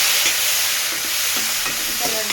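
Drumstick pieces (moringa pods) sizzle loudly in a hot pan as a sambar is being made, a dense steady frying hiss with light clinks of stirring, close up and with no one speaking.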